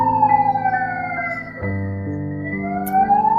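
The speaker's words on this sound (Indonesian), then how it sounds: "Ada ambulan lewat tuh." An ambulance siren passes by, its long wailing tone sweeping up and down over a steady low drone, loud and close throughout with no talk.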